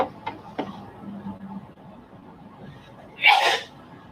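A single loud sneeze bursts out near the end, preceded by quiet indoor ticks and low room noise.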